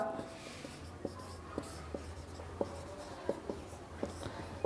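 Pen or chalk writing on a board during a Class 9 NCERT maths geometry lesson on lines and angles, with short scratchy strokes tapping out irregularly over a low steady hum, no voices.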